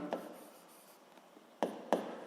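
Pen on paper while physics problem data is written down, a faint scratch at the start, then two brisk pen strokes near the end against quiet room tone.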